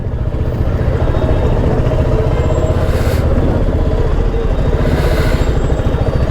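Heavy road traffic in Pune during the Dagdusheth festival crowds fills the air with a continuous low rumble of idling and creeping engines, close by and loud, with a couple of brief brighter swells.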